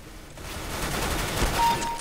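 A quick burst of automatic gunfire in CS:GO Arms Race, rattling shots fired in close succession with no talking.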